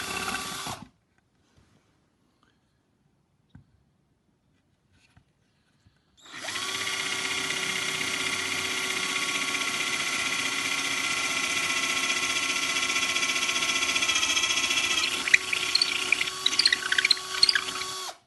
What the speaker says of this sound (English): Now it's time to address those missing holes in the body. So I got my drill out,